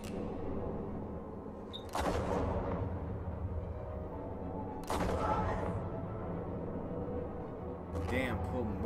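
Gunshots from the Batman Telltale video game, a few loud sharp blasts spaced apart, each followed by a brief ringing tail, set against a steady game soundtrack and background voices.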